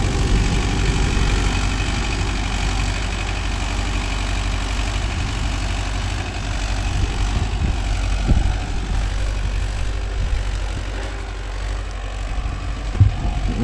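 Mahindra Yuvo Tech Plus 585 4WD shuttle-gear tractor engine running at a steady idle, a continuous low diesel rumble held close and even throughout, with a couple of brief knocks near the end.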